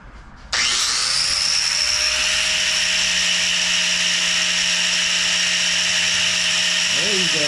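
A TIG welder's tungsten electrode is held to a spinning grinder, giving a loud, steady high-pitched grinding whine that starts abruptly and runs unbroken, with the motor hum underneath.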